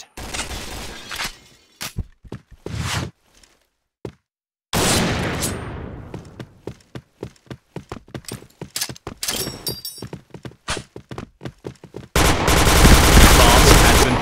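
Gunfire in the online shooter Piercing Blow, loud rapid bursts and single sharp shots with brief silent gaps, ending in a sustained dense volley.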